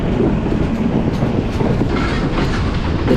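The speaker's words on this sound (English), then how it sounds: "The train goes through towns and villages." A passenger train runs along the tracks through Sri Lankan towns and villages, a loud, close, continuous rumble of wheels and carriages with a steady rattling texture.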